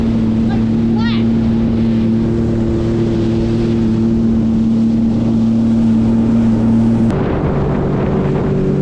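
A motorboat engine drones steadily on Tampa Bay on a calm, flat day after Hurricane Helene, a loud continuous hum close by with wind and water noise, the engine note shifting slightly near the end.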